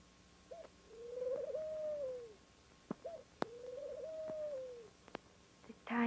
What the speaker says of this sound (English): The time of the singing of birds.